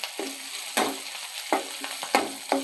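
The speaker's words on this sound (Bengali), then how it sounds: "এরপর থেকে কিছুক্ষণ তেলে ভাজতে হবে" Vegetables, with green chillies and onion, frying in oil in a home kitchen pan: a steady hiss with repeated stirring scrapes and clatters at irregular intervals, close and fairly quiet, no talk.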